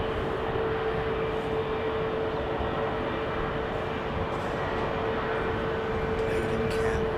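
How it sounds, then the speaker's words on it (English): An Airbus A380 airliner passes over Hounslow near Heathrow as a steady, distant jet roar with a constant hum, and no clear peak. "Bladen Campbell just saw an A380 over Hounslow"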